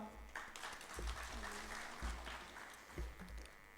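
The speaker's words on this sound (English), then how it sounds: "A big round of applause for our sir." An audience at a formal ceremony in Imphal claps in a sustained round of applause that stays fairly even, with a few low thumps mixed in.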